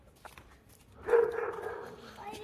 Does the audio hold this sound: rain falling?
no